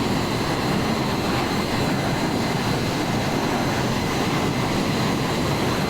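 Steady, broadband roar of a Fokker F28 jet engine inside the Microsoft Flight Simulator game, a constant cabin drone with no change in level and no voices.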